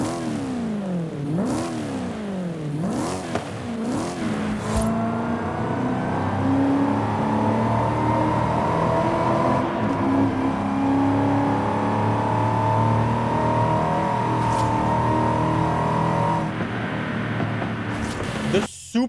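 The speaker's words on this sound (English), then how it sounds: "let's start with a sound test because it's got a supercharged V8 bone stock" A supercharged V8 in a stock Cadillac CTS-V Wagon, Forza Horizon 5 game audio, blips through several sharp revs, then settles into a sustained climbing roar with supercharger whine, loud and close.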